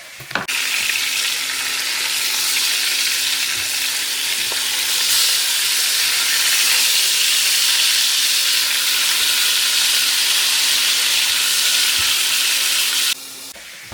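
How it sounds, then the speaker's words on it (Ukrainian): Meat sizzles steadily in a frying pan as part of a cabbage dish, a loud continuous broadband hiss that holds for most of the stretch before cutting off near the end, with no talking. "М'ясо перевернула на іншу сторону і за цей час, поки буде підсмажуватись"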